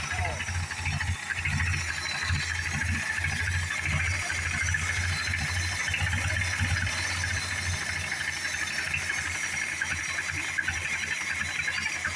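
Car engine idling smoothly at a car show near a '38 Chevy and a Charger, a low steady rumble with faint rattle under broadband background noise, fairly quiet and continuous.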